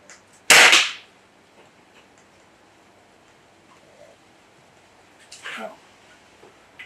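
A Gamo Wildcat .22 air rifle fires Gamo Rocket pellets outdoors, two sharp, short cracks several seconds apart against quiet background.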